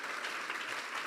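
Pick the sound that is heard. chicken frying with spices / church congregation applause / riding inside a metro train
church congregation applause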